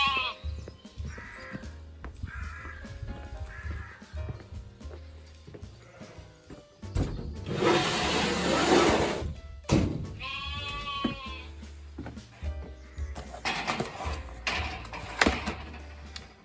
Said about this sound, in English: Say hello to the little sheep along the way.